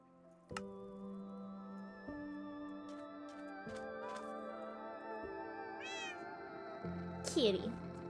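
A cat meows a few times in a video game, with short rising calls near the end over steady background music and game sounds.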